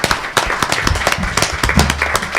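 Audience applause fills a Q&A hall during a talk on drug addiction, a dense patter of many hands clapping at steady loudness for a couple of seconds with faint murmuring underneath.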